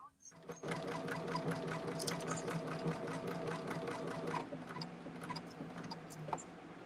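A sewing machine runs in a steady, rapid stitching rhythm while sewing the sides onto a quilt block, close and clear, slowing and stopping near the end with small ticks.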